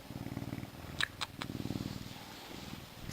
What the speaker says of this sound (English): I think the lynx purring is therapeutic.